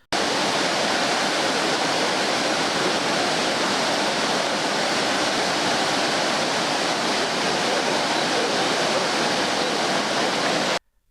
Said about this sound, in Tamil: இந்தியாவின் நயாகராவான சித்ரகோட் அருவி